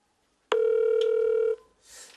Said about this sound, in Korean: 누나한테 전화해보자.